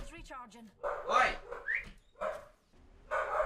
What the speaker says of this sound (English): my dog's barking because there's a cat on my front veranda